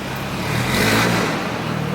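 Several BMW cars and an Alfa Romeo revving nearby, a broad, steady engine roar swelling to a peak around the middle of the clip and then easing off slightly, with no talk over it.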